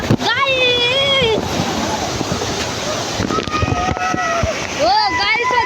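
A waterfall splashes with a steady, loud, broadband rush of falling water, while people nearby shout and call out over it.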